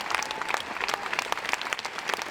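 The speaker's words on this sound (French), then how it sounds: "Et longs applaudissements." Long applause from a festival audience after a film screening at Cannes, dense steady clapping from many hands filling the room, fairly close and even throughout.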